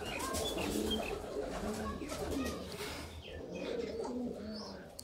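Sialkoti pigeons coo close by, with repeated soft throaty calls and a few chirps over steady background noise.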